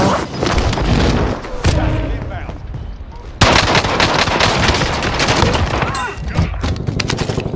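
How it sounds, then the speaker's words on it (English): Video game gunfire near a house, with a chopper and a pistol in play: dense, loud volleys of rapid shots and heavy booms keep going almost without a break, with a player talking over them. "Somebody in that house, they're getting shot at."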